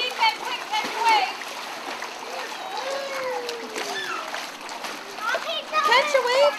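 A young girl swims in the deep end of a pool, light splashing and water movement mixed under near children's and adults' voices throughout.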